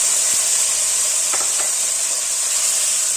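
Tomato, garlic and chili paste added to hot oil with browned cumin seeds, frying with a steady, even sizzle and steamy hiss throughout, plus a few faint stirring clicks.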